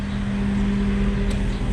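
A John Deere tractor engine idles steadily after a three-minute winter warm-up on a farm, a low, even drone with a constant hum and no change in throttle.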